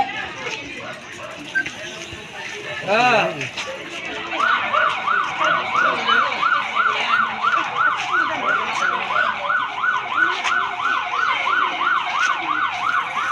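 A wailing siren sweeps up and down in a steady, repeating cycle, close and loud over street noise and people talking.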